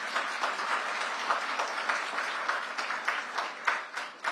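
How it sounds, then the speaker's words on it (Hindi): Audience clapping for soldiers at an Indian event: dense, sustained applause from a crowd, steady throughout with slight swells, moderately close and without voices over it. "ये जवानों के लिए ताली बजा रहे हैं, तो अब थोड़ा तालियों में गूंज जानी चाहिए"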